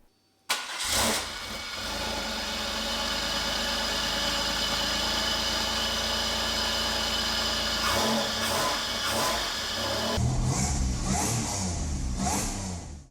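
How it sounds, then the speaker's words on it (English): A supercharged 3800 engine in a Pontiac Fiero cranks and fires on a cold start, settling into a loud, steady idle close by, then blipping into a few quick revs near the end. "give this thing a cold start and make sure we didn't"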